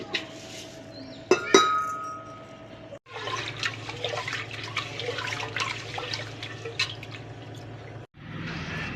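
Raw rice being washed in water in a home kitchen, with sloshing and swishing, a few sharp clinks against the vessel early on, then steady watery rinsing noise that pauses briefly before resuming.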